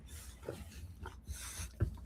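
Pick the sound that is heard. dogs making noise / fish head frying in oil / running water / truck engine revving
dogs making noise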